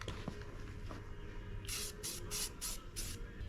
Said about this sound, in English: The trick with spray paint is to kind of do a lighter coat.